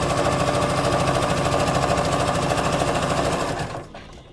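A sewing machine runs steadily, stitching a lined couture patch pocket with a fast, even mechanical rhythm, loud and close, before stopping abruptly near the end.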